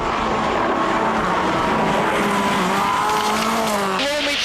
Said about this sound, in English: We ride with the very quick Burns and listen to co-driver Robert Reid.